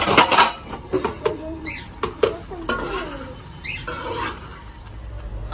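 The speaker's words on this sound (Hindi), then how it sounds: "ये घी में फ्राई होते रहेंगे" Food frying in ghee in a pan, a faint sizzle under several sharp clinks and scrapes of a utensil stirring against the pan, close and irregular.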